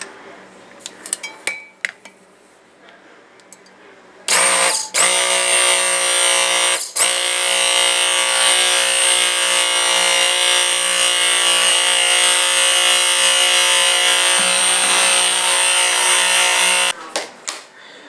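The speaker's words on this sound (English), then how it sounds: "And now I'm going to hit it with my stick blender." A stick blender runs in soap batter while fragrance oils are tested: a steady, loud electric whine of about twelve seconds with one brief dip, preceded and followed by faint clinks and handling noises.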